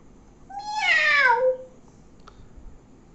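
A voice imitates a cat, giving one drawn-out, rising and falling meow as a mimicry act, close and clear, followed by quiet.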